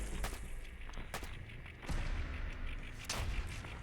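Heavy gunfire in Fallout 4 during a fight, with thumping shots and sharp cracks recurring over a constant rumbling din, loud and close throughout.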